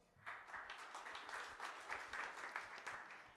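Audience applause after a venture capital panel introduction, a steady patter of many hands clapping at moderate distance, fairly soft, running alone for a few seconds.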